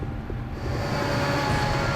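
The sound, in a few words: freight train running out of control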